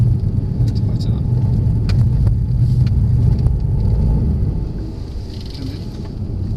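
A Mercedes car on a track, its engine and road rumble steady and close as it accelerates and brakes, with the level easing toward the end and a voice talking over it.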